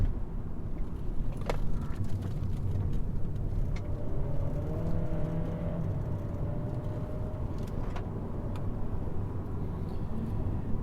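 A 2013 VW Jetta Hybrid driving in sport mode, its steady road and engine drone continuous from inside the cabin, with a faint rising whine midway and no talking.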